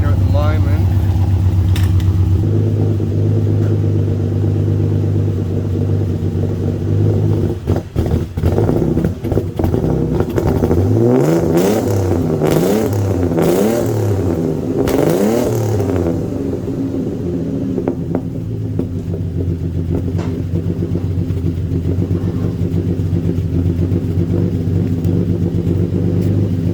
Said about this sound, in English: see how it sounds now with the full exhaust on it